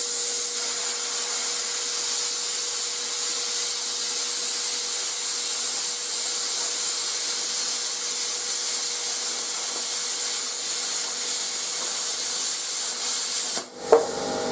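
A YesWelder CT2050 plasma cutter slices through metal with a standoff guide holding the tip off the surface, giving a loud, steady, continuous hiss that cuts out abruptly near the end.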